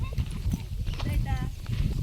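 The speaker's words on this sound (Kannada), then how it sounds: "ನಮ್ಮ 2 ಕುದುರೆಗಳು ಓಡ್ತಾವೆ" Two horses run at a village festival outing, their hooves clip-clopping under steady nearby conversation, with voices talking throughout.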